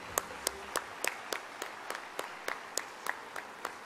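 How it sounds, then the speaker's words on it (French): Sparse, evenly spaced hand claps, about a dozen sharp single claps in a slow steady rhythm, fairly faint and distant, from an audience applauding an absent young champion at an awards evening. "On peut l'applaudir, même si elle n'est pas là."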